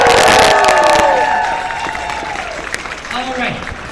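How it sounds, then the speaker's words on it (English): Audience applause and cheering at TwitchCon, a loud burst of crowd clapping that fades over a few seconds, with a host's voice and tonal music running across it. "Give yourselves a round of applause!"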